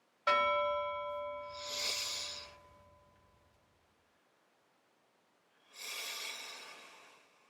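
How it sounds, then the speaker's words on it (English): A bell chimes once for a breathing exercise, clear and ringing, and is followed by a long inhale and then an exhale. The breaths are close and audible, with no talking. "listen for the bell and breathe in big when you hear it"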